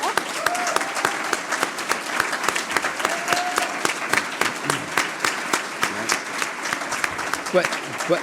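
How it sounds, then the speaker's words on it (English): Audience applause at a live show, a warm steady wash of many hands clapping throughout, with crowd voices faintly mixed in. "Let's give him a round of applause"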